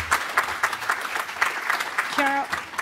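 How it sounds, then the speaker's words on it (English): Audience applause after a talk at an academic presentation on green industrial policies, a brief burst of steady clapping from a small crowd, with a short tonal beep partway through. "Applause for you."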